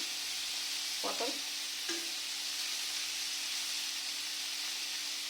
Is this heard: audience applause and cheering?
no